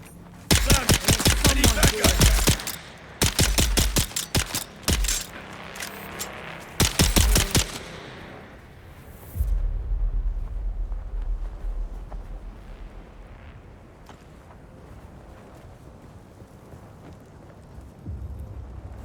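Gunfire in Dune: Awakening comes as loud, close automatic bursts, three rapid volleys over several seconds. Rumbling movement and quieter ambient noise follow.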